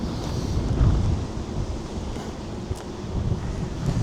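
Strong wind buffets the microphone in a steady, loud low roar with gusts at a Hull Fair build site, where the Giant Wheel and Helter Skelter are being put up in windy, wet weather.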